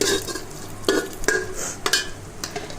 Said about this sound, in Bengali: সুন্দর করে ভেজে নেব একটু হালকা ব্রাউন কালার হবে